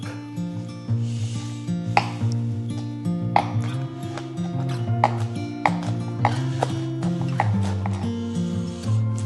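A knife roughly chops a bunch of fresh basil for bruschetta, giving soft, rapid cutting taps against a board beneath steady background music.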